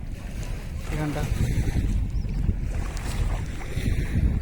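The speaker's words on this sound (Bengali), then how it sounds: "সমুদ্রের মতো ঢেউ আছড়ে আসছে" Waves from the Rupnarayan river wash in like sea surf along a riverside bank, a steady roar mixed with wind buffeting the microphone, while someone speaks briefly over it.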